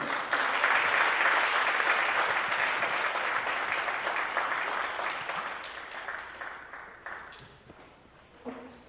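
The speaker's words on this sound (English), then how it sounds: "One big round of applause, thank you." An audience at a Board of Education meeting gives a round of applause to honorees, a thick burst of clapping that gradually thins and fades toward the end, leaving a few scattered claps.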